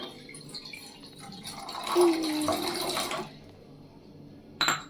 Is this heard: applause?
no